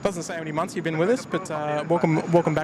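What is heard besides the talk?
No everyday noises stand out.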